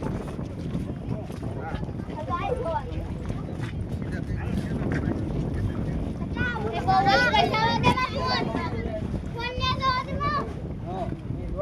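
A large boat at sea off Dwarka, Gujarat, drones with a steady low engine rumble and wind buffeting the microphone, while people talk and chatter loudly over it throughout.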